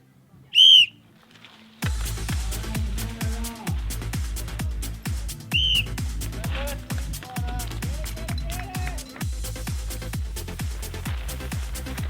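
A loud, shrill whistle blast starts riders at a cycling event, then a second shorter whistle cuts through steady talking and crowd noise.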